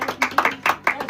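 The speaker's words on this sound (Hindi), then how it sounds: "तालियां" Hands clapping at a family birthday celebration for a grandmother, a few loose claps close by, overlapping with voices talking.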